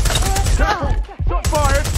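Rapid video-game gunfire bursts mixed with overlapping shouted voices, loud and close, lasting about two seconds.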